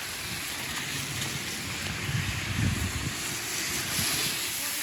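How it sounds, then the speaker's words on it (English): Hail drums on the ground in a dense, steady patter during a storm, mixed with gusty wind rumble against the microphone; the sound stays moderately faint and even, with no voices. "we've got a hailstorm going on now"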